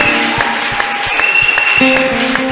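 Church congregation applauding and cheering for Jesus during a Sunday service, a loud steady wash of clapping with sharp rhythmic claps and sustained musical tones running underneath.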